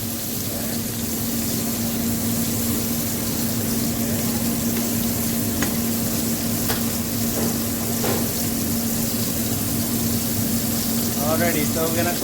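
Fish pan-frying in oil, both sides cooking over a flame, giving a steady close sizzle throughout with a low constant hum and a few scrapes and clinks near the end.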